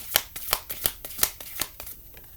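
Tarot cards are shuffled by hand in a quiet room, a quick run of soft riffling flicks in an uneven rhythm that tapers off at the end.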